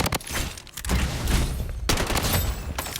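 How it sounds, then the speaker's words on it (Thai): Rapid bursts of gunfire in the video game Blood Strike crackle in quick succession with booming echoes, dense and loud, pausing briefly before another volley. "ได้ยินเสียงปืน"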